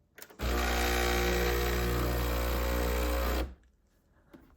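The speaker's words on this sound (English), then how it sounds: "Now we're going to turn the machine on with the power button." A Breville Barista espresso machine powers on with a loud, steady mechanical buzz and hum that holds for about three seconds, then cuts off abruptly into near silence. No one speaks.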